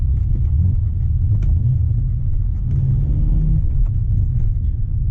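A 2005 BMW 330i E90 manual with a non-standard exhaust idles with a steady, loud low rumble and a slight rise in revs partway through, heard alone and up close.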